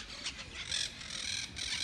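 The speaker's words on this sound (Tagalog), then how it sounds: "Yun yung uwak." Crows squawk in a park, several harsh caws in quick bursts, close and loud against faint background noise.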